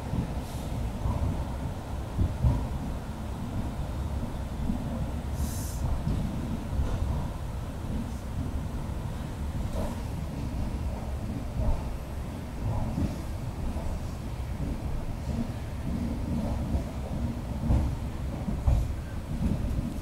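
Duranto Express 12285 pulling out of Rani Kamlapati station in Bhopal at night, a steady low rumble of wheels and carriages heard from onboard, with faint clicks and occasional wind buffeting over twenty seconds, no talk.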